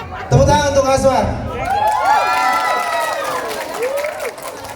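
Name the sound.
audience applause and cheering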